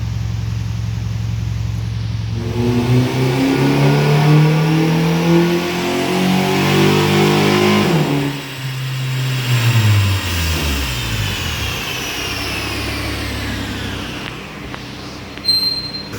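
A car engine revs hard on a dynamometer during a pull after OEM pulleys were swapped for lightweight aftermarket pulleys, rising in a sustained loud climb, easing off, then revving up again, with no talking.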